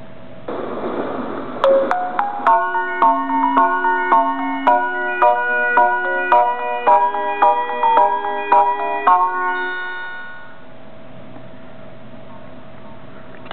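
Departure melody on platform 13 at Shinjuku station, where Chuo-Sobu local trains stop: a bright chime tune with evenly spaced notes plays for about eight seconds, then fades into platform ambience.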